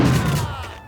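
A gunshot from the 2001 PC game Max Payne: one loud, close blast that decays with a fading rumbling tail, with no voice over it.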